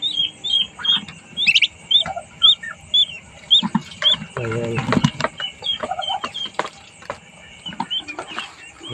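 Pet chickens and chicks clucking and peeping in a coop, high repeated cheeps over lower hen clucks and a brief squawk, close and busy, with a voice speaking briefly.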